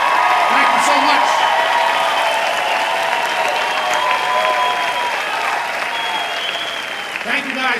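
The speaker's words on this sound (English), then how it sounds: "Give all our veterans a very nice round of applause." At a stand-up comedy show, the crowd gives veterans loud, sustained applause with scattered cheers and whoops, while people call out and talk over the clapping throughout.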